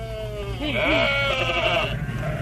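A sheep bleats once, a long wavering call over a low steady background hum.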